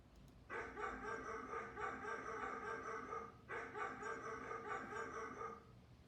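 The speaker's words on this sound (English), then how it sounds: "We know a dog bark." Faint, somewhat distant dog barking in two sustained bursts with a brief gap between them, no talking.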